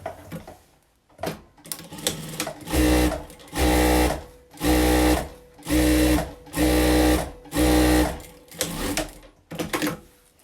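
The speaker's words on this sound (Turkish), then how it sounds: "Daha sonra bu sağ taraftan tek dikiş geçeceğim." Sewing machine stitching fabric with lace for a slipper pouch, running in about seven short loud bursts of rapid mechanical chatter separated by brief pauses, close and with no talk over it.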